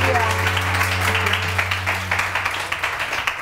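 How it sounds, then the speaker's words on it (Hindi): A studio audience on a Pakistani morning fashion show claps, sustained broadband clapping over a steady hum that thins into scattered, distinct claps toward the end. "सबसे पहले बहुत सारी तालियां अंबर खान के लिए।"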